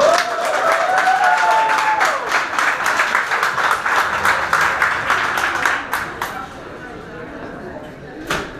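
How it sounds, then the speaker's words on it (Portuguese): An audience applauds after a poetry reading at a book launch, a dense burst of close, rapid clapping that thins out and fades toward the end, with a brief voice at the start. "E não aplaudam só porque o poema acabou"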